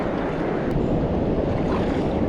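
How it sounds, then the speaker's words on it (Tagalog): Rough sea roaring continuously near a small boat during net fishing, a loud broadband wash of waves and wind filling the whole stretch with no break. "Lakas po ng ugong ng dagat"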